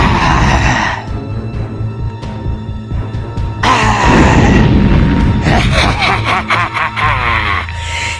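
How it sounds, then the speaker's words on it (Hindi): Animated character hurled through the air and slammed to the ground in a horror cartoon, heavy booming impacts and rumbling thuds mixed with grunts and dramatic effects, loud and close. "स्काइलर अपना पावर से मिस्टर मीट को हवा में उड़ा उड़ा कर नीचे पटकता है।"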